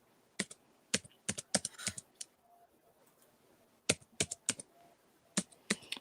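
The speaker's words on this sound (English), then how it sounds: "I'm using my iPad keyboard, so like I have to kind of slap it if you're hearing it." Fingers typing fast on an iPad keyboard, close up, with crisp, sharp key slaps arriving in irregular bursts, then a short pause before more clusters of clicks follow.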